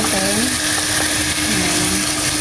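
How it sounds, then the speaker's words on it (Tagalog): Chicken pieces for chicken biryani frying in hot oil until golden brown, giving a steady close sizzle that runs through the whole stretch, with faint tonal sounds hovering above it. "So, fried nyo lang. Diyan sa medyo mag-golden brown."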